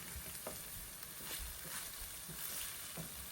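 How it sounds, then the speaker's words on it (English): Bolognese vegetables sizzle in a pan while a wooden spoon stirs and scrapes up browned bits, giving soft repeated scrapes and knocks over a constant frying hiss. "Scrape up all those brown bits. That's what the wooden spoon's really good for there."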